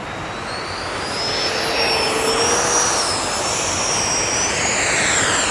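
An FMS 64mm electric ducted fan J-10 delta-wing RC fighter jet flying overhead, its steady high whine rising and shifting in pitch as it passes, fairly loud and alone.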